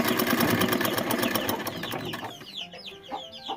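Sewing machine stitching a scrap of waste cloth, a fast steady mechanical rattle running for about two seconds before stopping, followed by quieter handling noises and faint rustling.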